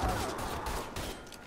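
Gunfire in the Mafia III: Definitive Edition video game, a steady, dense burst of shots that runs throughout, loud and close, with no speech over it.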